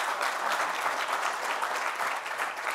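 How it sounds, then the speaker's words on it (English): An audience at an electrification panel discussion bursts into steady, full applause, dense clapping sustained evenly throughout without pauses. "Let's give a round of applause to that."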